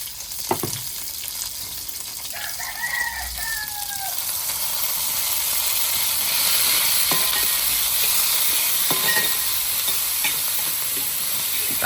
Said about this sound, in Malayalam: ചെറിയ ഉള്ളിയൊക്കെ വറക്കാം അല്ലേ? ഉരുളി തന്നെ വെളിച്ചെണ്ണ ഒഴിച്ചു.